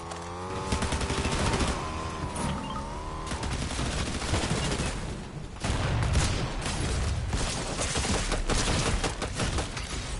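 Gunfire from a Fortnite match rattles almost continuously, with dense bursts of shots, game music tones early on and layered in-game effects throughout at a steady, loud level.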